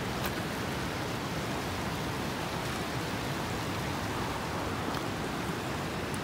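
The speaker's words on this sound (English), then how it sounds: "All the streams are flowing at their fullest" Steady rushing water fills the scene, a constant broadband wash of mountain streams running full after rain in Bashkargol Valley, with no voices.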